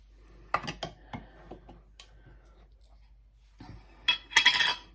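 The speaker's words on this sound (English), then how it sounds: "Let's get a spoon" Metal cutlery clinks in a kitchen as a spoon is fetched: a few sharp clicks and rattles early on, a quiet pause, then a brighter jangle of spoons knocking together, close and distinct.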